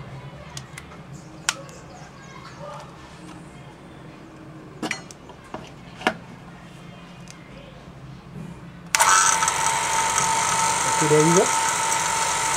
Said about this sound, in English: And this is my vacuum pump.